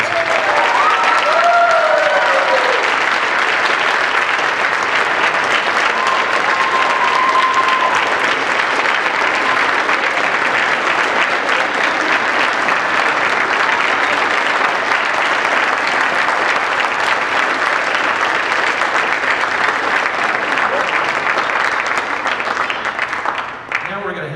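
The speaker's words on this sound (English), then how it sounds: "Let's give them a big round of applause." A graduation-ceremony audience at a Williamson County GED graduation in 2013 applauds loudly and steadily for about twenty-four seconds, a dense, unbroken wash of clapping that stays close and full before cutting off at the end.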